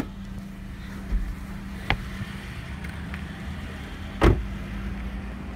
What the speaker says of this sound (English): I'm gonna open the trunk so we can have a look at the trunk space.